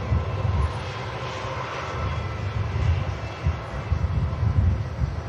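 An Icelandair Boeing 757 with Rolls-Royce RB211 engines at Manchester Airport, a continuous heavy jet-engine roar with a deep rumbling low end, steady and fairly close throughout.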